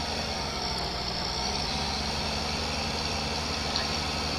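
A tractor engine in Farming Simulator 15 idles steadily with a continuous low rumble and even, unchanging drone, loud and close, with no talking over it.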